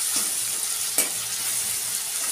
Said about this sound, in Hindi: इसको फ्राई करके हम निकालेंगे।